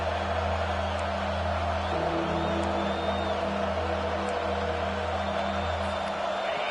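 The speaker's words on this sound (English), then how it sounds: "how nice is it to have the home crowd going absolutely bananas" A home stadium crowd at a USF versus Nevada college football game keeps up a loud, steady roar of cheering that fills the whole stretch without a break.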